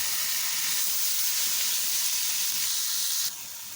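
Roughly chopped tomatoes sizzle in a hot kadai of chicken kofta curry, a steady close frying hiss running throughout with no talk, softening slightly near the end.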